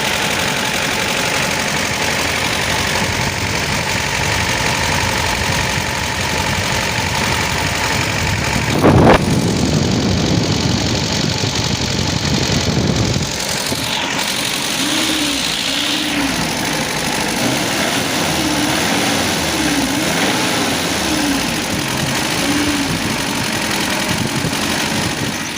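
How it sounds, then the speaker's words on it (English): A Toyota Hiace van engine idles steadily up close after an ignition adjustment, briefly rising in a rougher surge midway before settling back to an even, continuous rumble. "the vehicle is now idling fine after we've done that"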